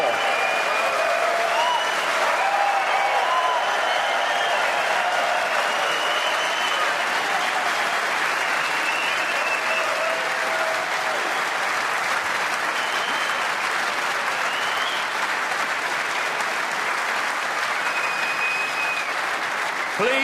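The Sheffield crowd at the Crucible applauds before the Snooker World Championship semi-final between Selby and Fu, a dense, steady roar of clapping that carries on unbroken for about twenty seconds.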